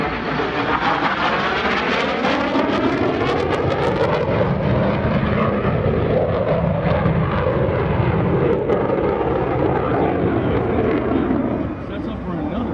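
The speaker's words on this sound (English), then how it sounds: "This engine keeps the F-16 a valid asset for the United States Air Force." A PACAF F-16C Fighting Falcon jet roars past during a demonstration at the 2021 Arctic Lightning Airshow, its loud, continuous engine noise sweeping in pitch as it passes, with an announcer speaking over it.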